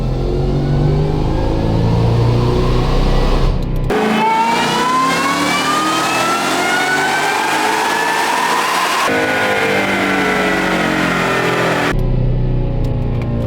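A supercharged Ford Mustang S650 pulls hard on a dyno in sixth gear, its engine note climbing steadily in a loud, sustained rising whine with supercharger howl, then cutting sharply back to idle near the end.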